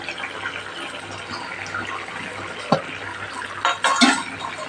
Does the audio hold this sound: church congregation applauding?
no